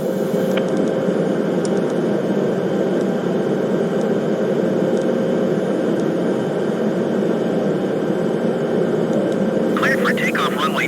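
An Embraer E170 jet in Microsoft Flight Simulator roars on the takeoff run, a loud, continuous engine rumble and hiss filling the clip, with a short burst of voice at the very end.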